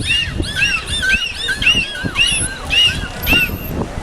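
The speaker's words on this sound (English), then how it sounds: "There are a variety of sounds like clicks, squeaks, squawks, and also whistles." High, chirpy dolphin squeaks and whistles at a dolphin show sweep up and down in quick bursts over a rough, noisy background, fairly loud and close.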